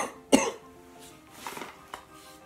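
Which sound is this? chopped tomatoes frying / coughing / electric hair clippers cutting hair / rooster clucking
coughing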